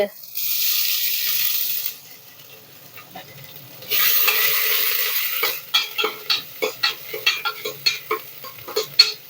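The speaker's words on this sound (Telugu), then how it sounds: "అల్లం వెల్లుల్లి వేసేద్దాం ఆయిల్లో" Ginger and garlic hit hot oil with a bright sizzle that rises twice, followed by a string of rapid rhythmic scraping and stirring strokes in the pan, close and fairly loud.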